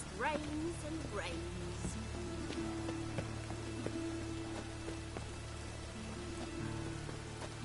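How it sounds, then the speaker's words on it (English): Steady rain falling in The Witcher 3: Wild Hunt video game, a constant soft hiss of rainfall with scattered drops, while a character speaks over it. "It just rains and rains."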